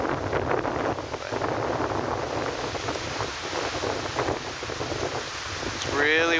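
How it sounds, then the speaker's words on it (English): Strong wind roars and buffets the microphone outdoors on a lake with whitecaps in the Boundary Waters Canoe Area, a constant heavy rush with gusts, and a faint rising tone near the end. "it's really windy."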